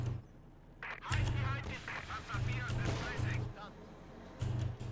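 Mortar fire strikes units in the Company of Heroes 2 battle, with several booming impacts and blasts spaced irregularly amid gunfire and loud battlefield noise, with game voices calling out over it.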